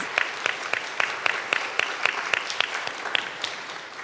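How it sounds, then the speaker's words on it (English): Audience applause at a school back-to-school night, a steady wash of many hands clapping with sharper individual claps standing out, moderately loud and sustained throughout without voices. "If we can give them a round of applause for joining us."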